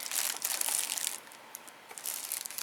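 A small, slightly thick plastic pouch for pet grooming clipper accessories is crinkled and handled close by, with brittle crackling bursts that ease off briefly midway, then resume, with no speech.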